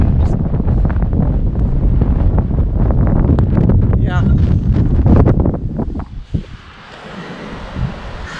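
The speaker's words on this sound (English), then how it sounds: "it's a little windy out" Strong wind buffets the microphone with a loud, constant roar that eases toward the end, while a person talks over it beside Wilson Lake Reservoir in Idaho.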